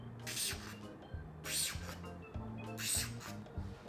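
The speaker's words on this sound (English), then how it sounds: "And for fun, take your vermouth mister." A vermouth mister sprays quick fine spritzes over a stirred gin martini, three soft hissing bursts spaced about a second and a half apart over a low, busy background.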